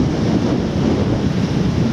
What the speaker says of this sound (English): Power of Mother Nature, power of the waves.